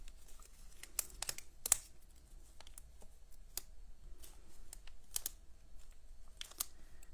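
A paper card being folded and put together by hand, with soft crinkles, taps and light rustling clicks scattered irregularly throughout, quiet and close.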